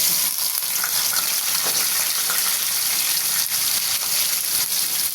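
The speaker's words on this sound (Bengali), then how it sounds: "চিংড়ি মাছ আর পেঁয়াজ একই সাথে নিয়েছি, তেলে ভেজে নেব আগে" Prawns and onion fry together in hot oil in a pan, giving a loud, dense, unbroken sizzle that crackles steadily from start to finish, close to the ear with no voices over it.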